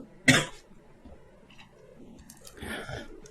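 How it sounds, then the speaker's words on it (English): A single sharp cough lands close to the microphone, followed by faint throat rustles and a breathy exhale in an otherwise quiet room. "I'm going to cough 1 second"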